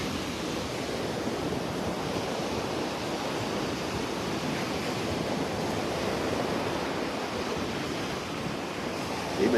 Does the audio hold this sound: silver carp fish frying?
no